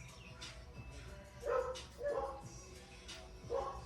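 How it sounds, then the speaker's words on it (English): Dogs bark in several loud, short bursts spaced a second or so apart, with yips and a whimpering edge, over faint background noise. "Confirmation, them dogs."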